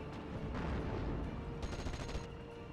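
A Humber armored car in the Steel Division 44 video game fires at range, heard as faint, rumbling bursts and scattered reports over a dull battlefield background, with no voices.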